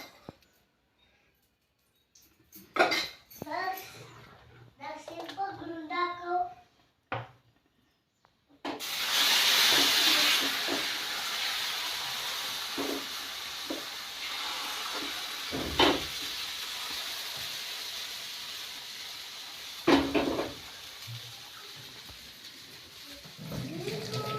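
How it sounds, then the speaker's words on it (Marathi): Uttapam batter topped with onion, tomato, green chilli and coriander poured onto a hot pan, a loud steady hiss breaking out after some faint clatter and speech-like sounds, with occasional scraping clicks over the sizzle. "उत्तप्पा करण्यासाठी मी त्याच्यामध्ये कांदा टोमॅटो मिरची आणि कोथिंबीर घातली तर मी टाकते तो उत्तप्पा"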